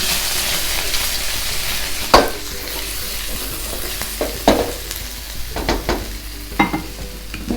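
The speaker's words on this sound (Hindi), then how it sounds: "इस पर डालेंगे 1 चम्मच लहसुन अदरक का पेस्ट।" Spoonful of garlic-ginger paste frying in hot oil in a pan for chicken Manchurian, a steady sizzle with several sharp stirring scrapes and clinks, close up and with no talking.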